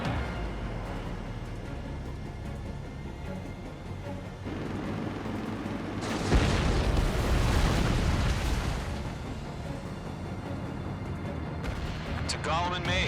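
Missile explosions in the Ace Combat 7 video game erupt as a loud, rumbling burst over a steady engine-like roar, peaking midway and trailing off into continuous noise, with a radio voice under the din.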